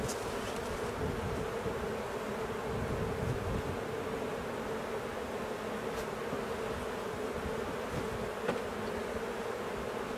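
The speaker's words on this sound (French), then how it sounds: "il y a déjà des abeilles qui sont revenues" A steady, dense hum of many bees buzzing close by, a continuous drone with occasional louder individual passes near the listener.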